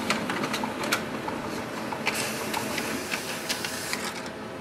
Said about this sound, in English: So once you give a print command, it will automatically start the printing.